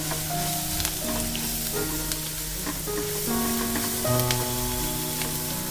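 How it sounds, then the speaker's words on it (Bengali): Maggi masala being stirred with vegetables in a frying pan, a constant loud sizzle with faint scraping, close by and unbroken, with some tonal background hum layered over it. "খুব ভালোভাবে একটু মিশিয়ে নিচ্ছি সবজিগুলোর সাথে"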